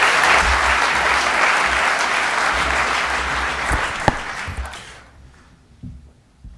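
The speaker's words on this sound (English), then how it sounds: "Warm round of applause." A lecture audience gives the speaker a warm round of applause, full and sustained for several seconds before dying away to a few scattered claps and near silence.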